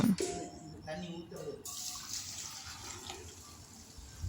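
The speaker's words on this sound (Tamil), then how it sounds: "ரெண்டு பக்கெட் தண்ணி ஊற்றியாச்சுங்க" Water from a bucket poured into a large pot of mutton biryani made with seeraga samba rice, a brief splashing pour fading into low bubbling and watery movement.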